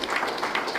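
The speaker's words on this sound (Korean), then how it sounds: "자, 우리 힘차게 박수 한번 칩시다" Audience applause at a panel discussion during a Busan peace-city policy forum: a short, steady wash of many hands clapping together, dense and fairly even throughout.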